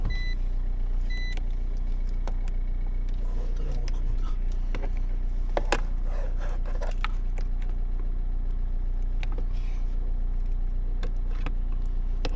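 A car engine idling steadily in a vehicle impound lot with the start-stop system failing to shut it off, a constant low hum with occasional clicks and beeps from inside the cabin.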